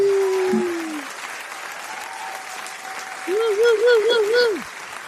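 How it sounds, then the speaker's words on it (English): A round of applause on a live stream celebrating new channel subscribers, a broad crowd clapping texture that runs the whole way, under and around a voice that speaks and hums over it. "I get a round of applause ready to"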